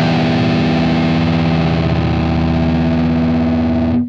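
An electric guitar plays through a Fractal Axe-Fx II with heavy distortion, holding one thick, loud, sustained note for about four seconds before it cuts off abruptly.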